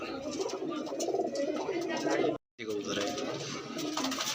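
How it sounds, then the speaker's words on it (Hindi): A white Madrasi pigeon coos in soft repeated calls at close range, partly under people talking nearby, with a brief pause midway. "सफ़ेद मदरासी कबूतर है"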